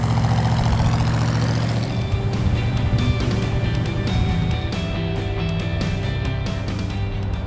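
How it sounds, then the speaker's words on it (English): Deep, steady rumble from the 428 V8 in a 1968 Mercury Park Lane, heard continuously from inside the car while it drives and shifts smoothly, with some rattling and road noise over the engine. "you can still hear that rumble of the 428"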